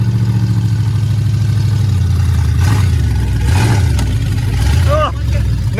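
A Ford F-150 truck engine runs with a loud, low idle rumble and occasional revs, and someone talks over it close by.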